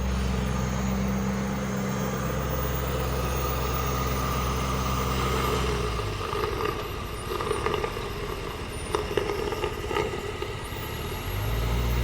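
A Lamborghini Urus engine idles steadily with its oil filter removed and crankcase open, a loud, continuous low rumble that shifts slightly in tone partway through.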